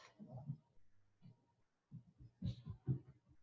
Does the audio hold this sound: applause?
no